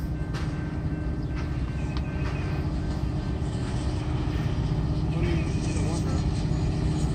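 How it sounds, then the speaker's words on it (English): A single EMD diesel locomotive hauling a Norfolk Southern covered hopper train gives a steady, dense low rumble that stays constant throughout, with muffled talk faintly underneath. "That sounds like an EMD unit."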